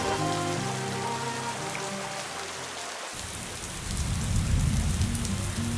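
Heavy rain pours down on a foggy mountain campsite on Mount Slamet, a dense steady patter; a low hum cuts off midway, then a deeper drumming of rain on a surface swells in.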